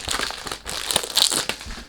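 Packaging around a bottle of Red Giorgio Beverly Hills perfume being crinkled and crumpled close up during unboxing, a loud, continuous run of crackling rustles with sharper crunches.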